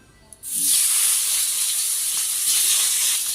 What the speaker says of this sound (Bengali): মাছ ভাজা তেলে আমি টমেটোগুলো ভেজে নেব।